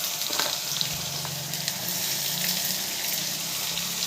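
Onions dropped into hot oil with tempering seeds and curry leaves, sizzling in a steady, close hiss with faint crackles and light clinks throughout.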